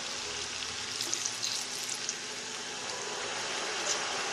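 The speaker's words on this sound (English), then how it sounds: "We're going to add half of our broth." Broth poured into a pan of pasta with broccoli and tomatoes, a steady hiss of liquid and sizzle with a few faint clinks.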